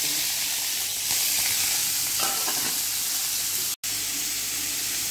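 Finely chopped onion dropped into hot oil in a kadai, giving a loud, dense, continuous sizzle and hiss that swells briefly mid-way, close up with no voices and a momentary dropout near the end.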